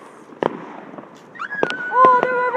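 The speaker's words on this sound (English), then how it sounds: "there's fireworks everywhere" Fireworks pop and crack at a distance outdoors, a few sharp bangs scattered over a couple of seconds, mixed with voices calling out and a high whistling wail near the end.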